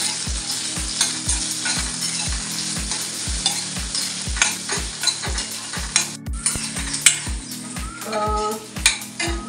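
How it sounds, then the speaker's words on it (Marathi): Onion and potato sizzle and fry in a pan for poha, with a spoon stirring in steady scraping strokes roughly every half second over a continuous hiss, close and moderately loud, with no talking. "मग आता मी याच्यामध्ये कांदा ॲड करून घेते."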